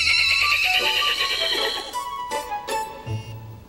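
A horse neighs loudly and close by, a long high whinny followed by shorter breathy snorts, in an animated children's film set in London.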